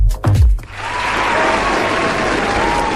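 A recorded applause effect on a radio show, with dense clapping swelling up after a short thump and burst of noise at the start and then carrying on steadily with a faint tonal whine over it.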